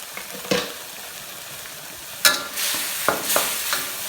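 Fish curry frying in a pan for Thai chu chee tilapia, with a steady sizzle and several sharp scrapes and clanks of a utensil stirring against the pan, close and loud.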